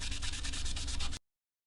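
Sanding the finish of a Telecaster-style guitar body with 600-grit paper, a steady close scratchy rubbing stroke lasting about a second before cutting off abruptly to silence.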